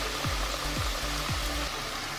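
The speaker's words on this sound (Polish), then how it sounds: "Na tak gorący olej wrzucam moje różyczki." Rose-shaped carnival pastries fry in hot oil, giving a steady, soft sizzling hiss with a low bubbling undertone that stays even and close throughout, with no voices.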